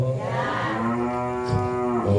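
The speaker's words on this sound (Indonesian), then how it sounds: "Rupane sapi melu ngaji, sapi." A cow gives one long, loud, close moo that rises and holds for about two seconds, with no talk over it.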